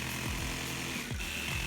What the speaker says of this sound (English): cut into it with a drill bit and then cut around the hole with a jigsaw